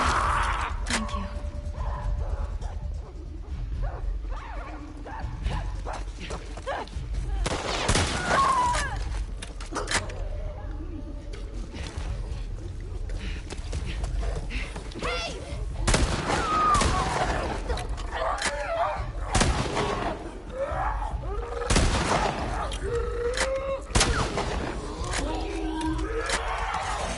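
Repeated shotgun blasts and gunfire in The Last of Us Part II, sharp loud bursts spaced through a busy game soundscape with rumbling ambience, several shots in close succession.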